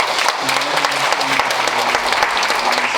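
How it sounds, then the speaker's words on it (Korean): A church congregation claps to welcome guests, dense steady applause from many hands filling the room, loud and close, with a voice murmuring faintly underneath. "예, 박수로 환영하겠습니다"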